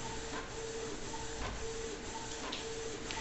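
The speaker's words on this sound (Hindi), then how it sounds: "देखिए प्रिंटिंग आपका शुरू हो चुका है" A Canon wireless printer prints a photo, giving a steady mechanical whir and hiss with faint periodic ticks and feed clicks, continuous and fairly close throughout.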